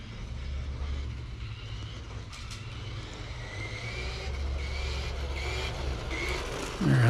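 An old-school RC car held on throttle gives a steady motor whine and rumble at a moderate distance, rising slightly toward the end, with a short burst of louder noise at the close.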